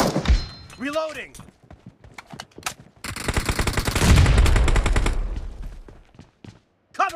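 Gunfire in the mobile battle royale game PUBG Mobile, scattered single shots and thuds followed by a long rapid automatic burst, close and loud, with game voice callouts heard early on.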